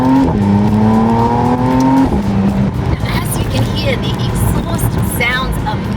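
A 2025 McLaren Artura Spider engine revs hard while driving, a loud close rising whine that climbs, drops at a gear change, then continues under fluctuating road and wind noise.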